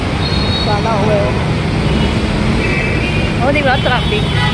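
Steady city street traffic around Legarda and Recto in Manila, a broad continuous roar of engines and road noise with passing vehicles, chirping birds or whistles now and then, and people talking in the background.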